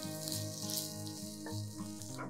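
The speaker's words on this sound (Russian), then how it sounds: "На разогретую сковороду выкладываем часть баклажанов." Eggplant pieces fry in a preheated pan over medium heat, giving a steady close sizzle throughout with a faint watery hiss layered over it and occasional stirring clinks.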